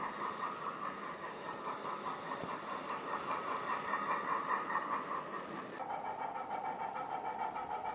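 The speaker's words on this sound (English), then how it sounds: "a British Railways era Hall 460 on down coal empties" A model railway train, a British Railways era Hall locomotive hauling down coal empties, rolls past at close range with steady clickety-clack from the wagons and a faint mechanical hum, the tone shifting slightly as it moves by.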